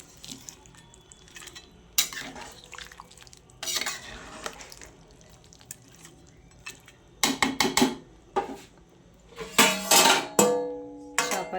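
Chicken rezala stirred in a pot after spice water is added: intermittent scraping and clinking of a spoon against the pot, soft bubbling between, with louder stirring clusters near the end and no talking.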